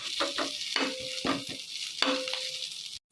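Ingredients frying in a pan for a chutney, a close hissing sizzle broken by several distinct stirring scrapes and clinks, ending abruptly in silence.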